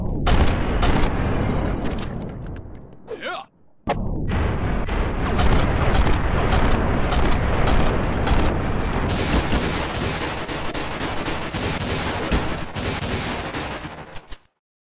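Dense, relentless gunfire and explosions in HandCop, a third-person shooter game set in Los Angeles, loud and continuous with a brief drop to near silence partway through before the barrage resumes.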